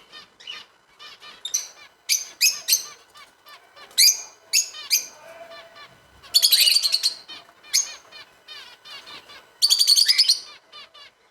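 Pet cockatiels and parrots in a backyard aviary chirp and call in bursts, with quick trills broken by louder, shrill squawking spells and brief quiet gaps, fairly close and with no talking.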